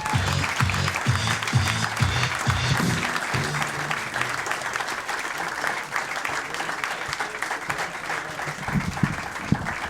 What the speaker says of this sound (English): How about a round of applause for Drew Hastings